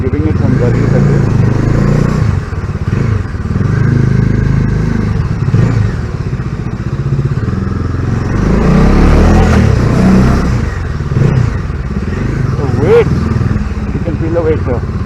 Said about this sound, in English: I don't know if you are getting the audio properly because this bike is pretty loud